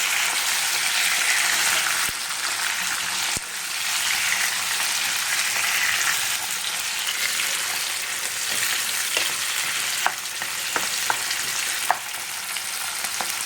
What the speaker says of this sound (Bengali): টমাটো রসুন সব দিয়ে দিলাম দিয়ে এটাকে একটু হালকা হালকা ভাজা ভাজা করে নেবো